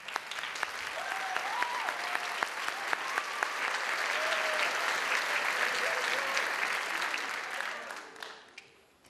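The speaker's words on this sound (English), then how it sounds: "please stand up so we can give them a round of applause" Sustained applause from a school audience for a 7th grade band at a middle and high school band festival, steady crowd clapping with a few whistles, swelling then tapering off after about eight seconds.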